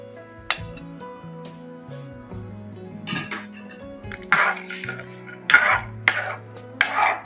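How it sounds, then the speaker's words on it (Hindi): Dry fruits for sheer khurma are roasted in a pan, making a series of light clinks and scrapes as the pieces are stirred against the metal, with a few sharper clatters mixed in and no talk. "ड्राई फ्रूट हमने थोड़ी देर के लिए भून लेना है"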